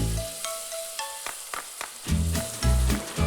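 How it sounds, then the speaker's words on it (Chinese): Vegetables stir-frying in a hot wok with soy sauce, oyster sauce, dark soy and vegetable stock, a loud close sizzle with clanking tosses and bursts of hissing as liquid hits the pan. "锅烧热后，按照易熟程度的先后，我放入素菜"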